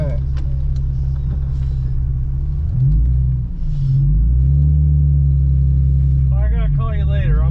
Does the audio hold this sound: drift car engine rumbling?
yes